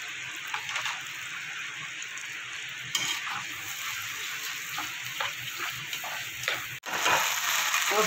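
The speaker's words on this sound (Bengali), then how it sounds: "পোস্ত আর যে গুঁড়ো মশলাটা দিয়েছি আমার মশলাটা কষানো হয়ে গেছে।" Spices frying in a pan with turmeric, salt, Kashmiri chili powder and poppy seeds, a dense hissing sizzle with scraping stirs throughout, close and steady, with a brief dropout near the end.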